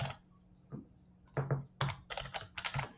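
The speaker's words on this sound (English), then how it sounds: "And we're going to type in domain." Typing on a computer keyboard, close and fairly quiet, a few separate key taps and then quick clusters of clacking keystrokes in an otherwise quiet room.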